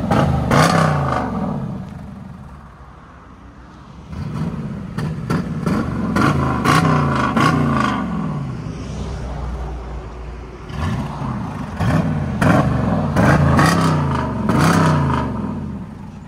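A 2019 Jeep Grand Cherokee Limited X with a 5.7L HEMI V8 and muffler delete revs repeatedly nearby, its loud, deep exhaust rising and falling in several sharp blips with a lower idle between.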